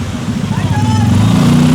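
A green motorcycle passes close by, its engine note climbing and thickening as it nears, heard under and alongside people talking.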